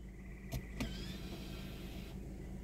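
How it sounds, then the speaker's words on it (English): An electric parking brake engages on a 2023 Toyota Corolla LE as it is shifted into park. Two sharp clicks come first, then a quiet motor whir lasts about a second inside the car, over a steady low hum. "that noise when I put it in park, that's the parking brake"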